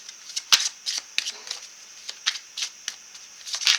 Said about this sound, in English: when it takes a little bit for me to shuffle out a card